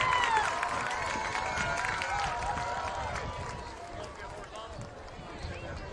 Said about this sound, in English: A big round of applause for your Lady Pirate Cheer Squad.